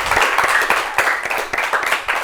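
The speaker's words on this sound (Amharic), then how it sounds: "እሺ አጨብጭቡለት።" An audience claps for a child contestant at a quiz competition, a brisk burst of dense, close hand claps that keeps going steadily to the end.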